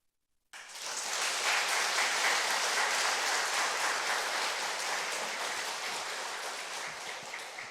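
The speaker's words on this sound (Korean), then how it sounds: "여러분, 이 박수는 기도해 주시겠다는 박수겠죠?" Sudden burst of congregational applause at a Sunday church service, a dense wash of many hands clapping that starts abruptly and holds steady, slowly easing toward the end.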